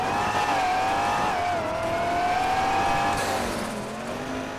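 Turbo S10 truck launching in a GTA 5 drag race: loud engine revving with a rising, shifting whine and tire squeal, steady and close, tapering slightly at the end.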